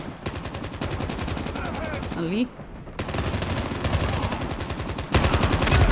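Rapid automatic gunfire in Call of Duty Mobile multiplayer, loud bursts of fast repeated shots with a brief pause midway, then firing resumes and intensifies, with a short spoken word amid the shooting.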